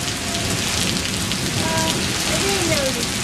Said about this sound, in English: Tell everybody it's raining a lot.